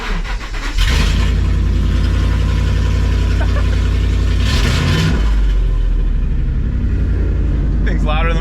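A loud car engine roars to life and revs hard, then settles into a rough, throaty idle with another burst of revving midway.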